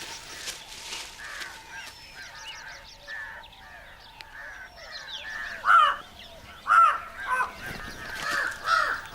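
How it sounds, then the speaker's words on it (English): A jungle crow calls with several harsh, separate caws in the latter half, set against dense tropical forest ambience with buzzing insects and scattered birdsong. "A jungle crow sharpens its beak, just in case."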